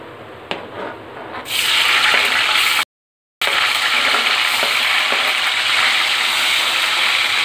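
Paneer frying in hot oil on a gas stove, a loud continuous sizzle that jumps up after a quieter start and holds steady, broken by a brief gap.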